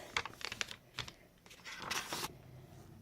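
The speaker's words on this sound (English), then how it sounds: "Now I'm just removing the tape." Adhesive tape peeled off vellum paper during envelope crafting, heard as short, faint crinkly tearing bursts close to the microphone, ending in a longer drawn-out peel.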